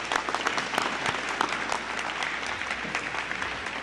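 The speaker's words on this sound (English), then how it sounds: "So please give yourselves a round of applause." A crowd at a Cathedral High School 100-year reunion breaks into steady, dense applause, with close individual claps sounding sharp throughout.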